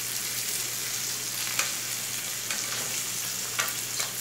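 A T-bone steak frying in a pan with butter and garlic, a dense continuous sizzle with a few soft sharp pops and crackles scattered through, close and steady.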